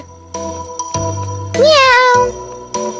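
A cartoon cat gives one drawn-out, wavering meow in the middle, set against light background music and effects.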